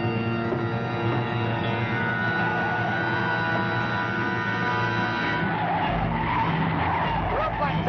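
Car tires skid and squeal at length on a vehicle whose brakes have failed, a dense, steady roar of rubber and engine noise that swells into a rumbling crash-like texture near the end.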